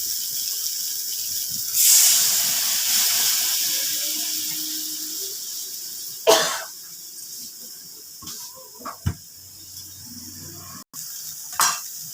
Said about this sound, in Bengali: এবার আমি একটু ঝোল দিয়ে দিচ্ছি।